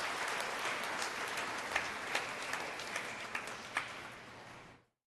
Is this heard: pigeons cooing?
no